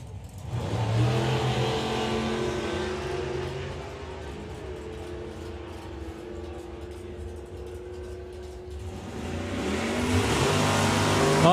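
Drag racing cars, a dragster and a Camaro, rev loudly at the STP Summer Nationals, with a steady engine roar that eases slightly in the middle and swells again near the end.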